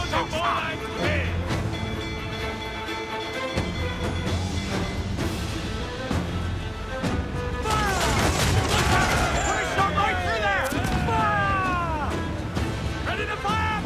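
Naval battle in Assassin's Creed 4 Black Flag, with cannon blasts and musket fire cracking over a continuous musical score while crew voices shout, a dense, loud mix of booms and sharp reports.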